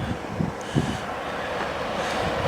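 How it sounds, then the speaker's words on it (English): Train pulling out of a station on the Heart of Wales line, a low steady rumble of engine and wheels with a few soft thumps, heard from the platform at moderate level. "So we'll see this one head out before our train comes in."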